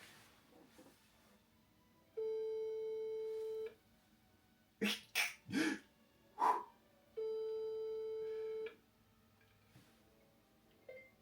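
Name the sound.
telephone ringing tone while placing a call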